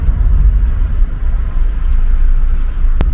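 A car engine idles with a low, steady rumble just after being push-started, loud and close, with a brief sharp click near the end and no talk.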